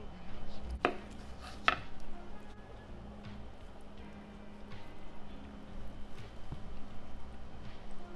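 A knife slicing cooked brisket-style tri-tip smoked on a mini kamado grill, a few sharp cuts against a board over quiet background, close and sparse.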